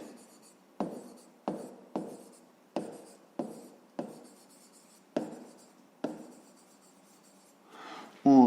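Someone writes out the steps of a fifth-grade math word problem, producing about nine close, sharp strokes and taps in an uneven rhythm, each fading quickly, ending with a brief rubbing scrape.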